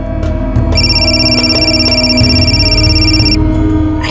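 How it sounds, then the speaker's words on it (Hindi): A telephone rings with a steady electronic trill for about three seconds over loud, busy background sound. "अरे किसका फोन आ रहा है बार बार?"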